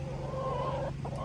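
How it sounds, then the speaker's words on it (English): A chicken gives a drawn-out, wavering cluck over a steady low hum, followed by a couple of shorter sounds, with no one speaking. "you'd rather be surrounded by the sounds of chickens than the street sound."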